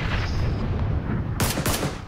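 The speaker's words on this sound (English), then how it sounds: "I'm getting shot from everywhere." Gunfire in the video game PUBG: a loud, dense burst of rapid shots dominates the clip, with a few sharp cracks near the end over constant background noise.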